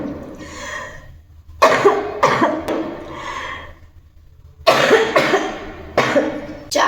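Cough of a person with a cold: several harsh coughing bursts in clusters, separated by quieter stretches of breathing and throat sounds, close and fairly loud.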